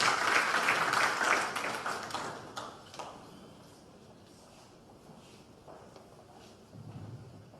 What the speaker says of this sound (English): Can we give him a round of applause as he comes?